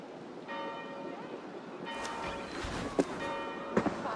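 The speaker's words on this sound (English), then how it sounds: "Do you not hear the bells?" Church bells in the Viking Age Discovery Tour of Assassin's Creed: steady ringing tones from a bell tower, fairly distant, with brief thuds and movement sounds partway through.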